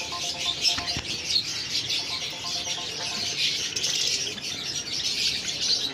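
Lutino personata lovebirds and their chicks chatter in a breeding room: a dense, continuous wash of high, scratchy chirps and tweets from many birds at once, fairly close, with a few sharper calls rising above the chorus.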